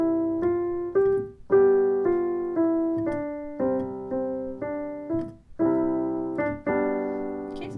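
A piano plays the opening line of Ode to Joy as a steady run of clear single notes with chordal support, each note sounding distinctly in an even rhythm, close and alone with no talking.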